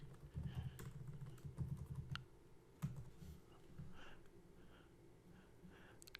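Typing on a computer keyboard, a close run of quick irregular key clicks and taps that slows and softens toward the end.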